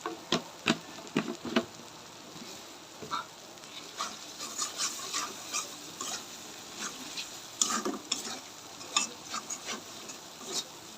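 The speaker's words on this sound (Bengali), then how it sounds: "পরিমাণ মতো হলুদের গুঁড়া, পরিমাণ মতো ধনিয়ার গুঁড়া দিয়ে একটু কষাই নেবো ভালো করে" Turmeric and coriander powder being sautéed with spices in a pan for a vegetable dish: a quiet sizzle under repeated scraping and stirring strokes, irregular and close, with no talking.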